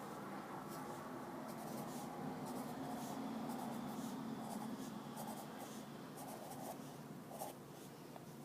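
Pen or pencil scratching on paper while a C major scale is written out, with short quiet strokes and taps in a steady, close, faint run.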